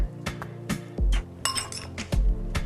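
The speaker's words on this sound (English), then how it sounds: "Get this rice, put in this bowl" Dishes and utensils clink several times while coconut-milk rice is spooned into a bowl, with sharp, close, uneven knocks and a few heavier thuds, no voices.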